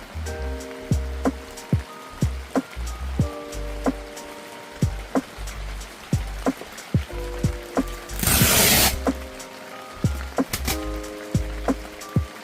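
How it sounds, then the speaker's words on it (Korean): Heavy rain beats on a polyester tent with its rainfly fitted, a steady close patter with recurring heavier drips and a brief, louder rushing gush near the end. No voices. "비가 굉장히 많이 오네."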